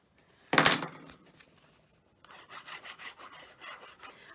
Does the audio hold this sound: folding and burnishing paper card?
yes